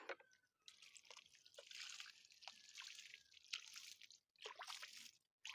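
Water poured over potted plants, with quiet, uneven splashes and drips that start and stop in short bursts, separated by brief silences.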